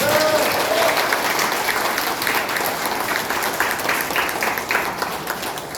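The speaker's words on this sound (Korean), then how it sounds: "이 지점에서는 박수 한번 부탁드리겠습니다" Audience applause at the opening of a county governor candidate's election campaign office, steady dense clapping from a large indoor crowd lasting throughout, with a brief voice at the start.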